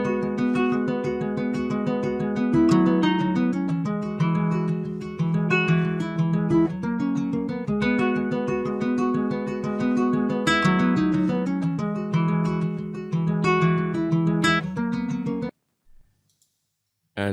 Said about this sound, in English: So the first guitar sounds like this.